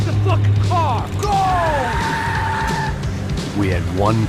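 A car chase in Max Payne 3, with tires squealing and skidding in drawn-out howls over a loud engine, under shouted voices.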